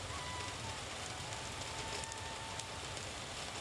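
Rain falls steadily in a soft, continuous wash, a quiet even patter with no breaks and no voices, in a Hindi story set in the hills.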